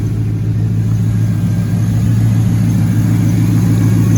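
A 5.3 LS V8 swapped into a Chevy S10 idles steadily up close with a deep, even low rumble and a slight lope, running continuously and loud with no other sounds.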